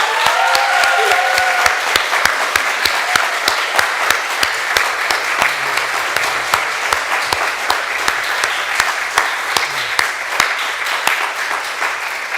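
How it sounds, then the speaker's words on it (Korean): A church congregation at a Sunday worship service claps together in loud, sustained applause, a dense close patter of many hands holding steady for the whole stretch without voices. "박수가 아주 소리도 나고 박수가 길어지니 아주 좋습니다"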